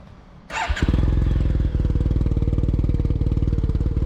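A Yamaha TMAX 530 DX with a Termignoni exhaust cranks briefly and fires up, settling into a loud, rapid, throaty idle with a deep pulsing exhaust note close by.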